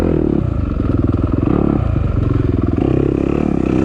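A stock Yamaha YZ250F four-stroke dirt bike races through a tough harescramble section, its engine droning loud and close with pulsing throttle changes, mixed with clattering and scraping.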